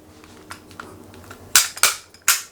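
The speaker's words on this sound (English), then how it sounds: "I had to bang it a few times, but then the takedown lever allowed me to drop it" Gas blowback airsoft pistol, a Springfield Armory XDM, banged against a surface to free the takedown lever: soft handling clicks, then three loud, sharp knocks in quick succession, close and unaccompanied by speech.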